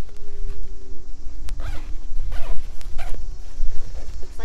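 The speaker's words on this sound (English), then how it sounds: "Looks like the zippers all work." Zippers on a Shark Week book bag being pulled open and closed, several short rasping zips close by over a low background rumble.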